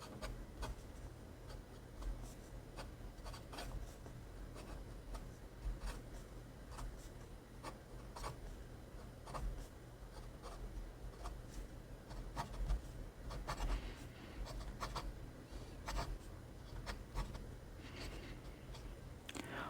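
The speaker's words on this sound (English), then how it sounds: "Now you're going to hear the paper. This is Rhodia paper." Hongdian A3 fountain pen scratching across Rhodia paper, a soft continuous nib scratch with small rhythmic strokes, close and quiet, with no talking.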